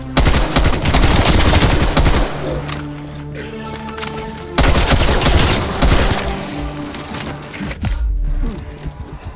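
Rapid assault rifle fire in Black Ops Cold War Zombies, loud bursts of close automatic gunfire in two long volleys with a quieter gap between, over layered game effects.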